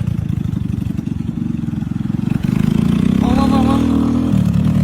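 A Tufan S50 50cc moped engine idles with a fast, buzzy putter, then revs up into a louder, steadier drone, close and prominent throughout.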